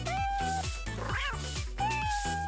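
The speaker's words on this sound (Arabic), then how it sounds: "قطة شاطرة." A cat meows twice with clear, drawn-out tonal cries, close and distinct, in an animated pet-life game scene with music underneath.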